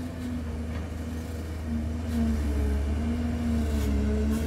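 A Chinese-made Liugong excavator engine holds a steady, loud diesel drone that rises slightly in pitch and intensity partway through, not yet at full throttle, with no voices.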